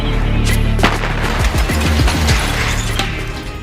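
War footage carries loud, close blasts and impacts from Russian missile and artillery attacks, several sharp bangs in quick succession over a dense rumble.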